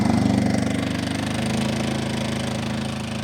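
A Honda generator sits close by, its engine running steady and loud under load, with a dense pulsing mechanical drone and a slight shift in pitch as the revs rise.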